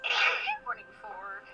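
A person sneezes once, sharp and close, during a Dungeons & Dragons tabletop game session, followed immediately by someone speaking briefly.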